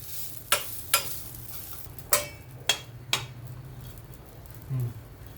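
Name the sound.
rice flour being sautéed in ghee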